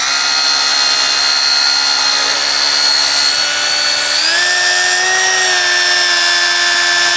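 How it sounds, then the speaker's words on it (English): Rotary polisher fitted with a wool pad spinning on glass to remove water spots, a loud steady high-pitched whine that steps up in speed partway through, close and continuous with no talk. "We've got a wool refuse pad and we have the rotary set on the Nano here."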